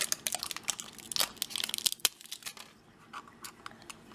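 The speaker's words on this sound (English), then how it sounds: "let's tear this open" A plastic blind bag package for a My Little Pony, Teenage Mutant Ninja Turtles or Littlest Pet Shop toy being torn open, with rapid, close crinkling and ripping bursts that trail off into sparser rustles.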